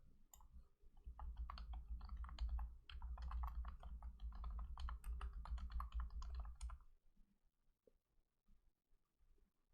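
Rapid typing on a computer keyboard, a steady run of close, crisp keystrokes lasting several seconds before stopping, followed by near silence with a faint stray click.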